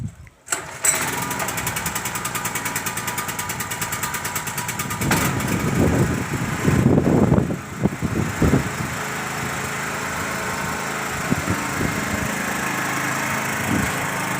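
A portable generator engine runs steadily under load while powering a 24,000 BTU heat pump, a continuous close mechanical drone with a brief startup thump and some rougher bursts midway.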